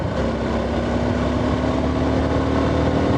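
A Suzuki V-Strom 250SX motorcycle climbs a winding road in fourth gear at a little over 50 km/h, its engine giving a steady, loud drone with a constant hum and wind noise throughout.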